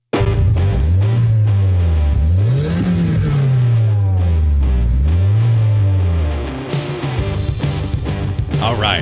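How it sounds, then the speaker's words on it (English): A car engine revs hard and loud, climbing and falling in pitch through several swooping throttle blips before cutting off into rougher, noisier idle-like rumble at the end. "Those car sounds, by the way."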